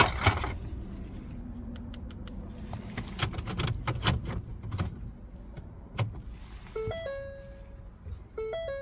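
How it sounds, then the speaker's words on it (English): A key slides into the ignition of a 2005–2007 Ford Five Hundred and turns: a run of sharp metallic clicks and ratchets close by, then a series of bright electronic chime tones from the dashboard. "Now you need to insert the new key into the ignition and turn to on position."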